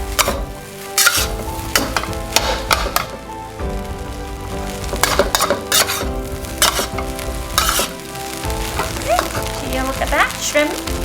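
Shrimp fried rice stir-frying on high heat, a loud steady sizzle broken by repeated scraping and clattering of the spatula against the pan throughout.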